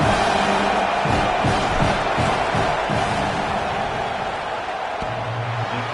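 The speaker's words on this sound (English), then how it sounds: "This crowd trying to do its part to get inside the kicker's head" Stadium crowd in a college football video game roars steadily during a field goal attempt, a loud sustained wash of voices with scattered whoops and a few thuds.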